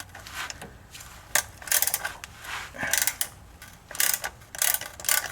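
A ratchet loosens bolts on a Ford transfer case flange, giving close, quick bursts of clicking in short repeated strokes separated by brief pauses.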